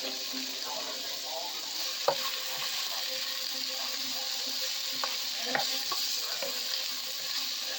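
Vegetables fry in a pan with a continuous close sizzle, broken by occasional sharp taps and scrapes as they are stirred.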